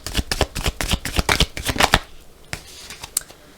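A deck of tarot cards is cut and shuffled up close, giving a quick run of crisp riffling snaps for about two seconds, then a few sparse taps and card slides before it settles.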